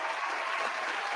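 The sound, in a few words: applause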